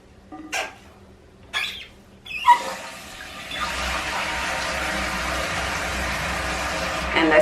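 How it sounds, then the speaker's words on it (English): After a few brief clicks and knocks, a steady rushing hiss of water filling a toilet tank with a Fluidmaster fill valve begins and carries on evenly. "I'm going to turn the water on."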